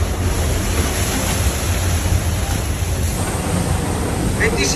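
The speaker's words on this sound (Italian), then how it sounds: "Qua abbiamo quasi 14 metri d'onda" Heavy Atlantic Ocean waves of almost 14 metres during a hurricane crossing, a constant roaring wash of sea and wind close to the boat, loud and unbroken throughout.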